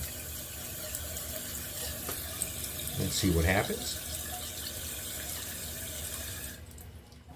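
Water rushes steadily as a Glacier Bay toilet bowl refills, with a brief swirling gurgle midway; someone speaks briefly, and the flow cuts off near the end.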